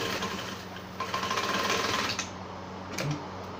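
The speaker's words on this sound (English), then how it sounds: "so this is how I will back stitch" A sewing machine back stitches on a senator top, giving a short, close burst of needle rattle with motor hum that stops briefly and then starts again.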